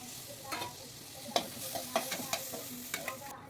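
Tomatoes fry and sizzle in a pan of simple masoor dal preparation while a spoon scrapes and stirs in sharp, irregular knocks over a steady soft hiss, close and alone without talk.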